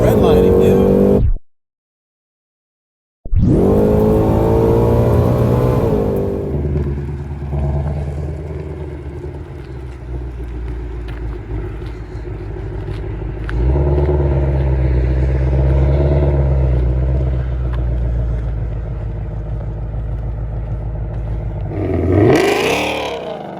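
A 2020 GT500 or C8 Corvette engine revs hard toward redline in rising, high-pitched sweeps that cut off abruptly, followed by a sustained loud engine drone with occasional voices nearby.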